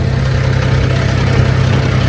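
A tractor stuck in mud with its engine running: a loud, steady, low diesel throb that holds an even rhythm throughout, close and unbroken, with no voices.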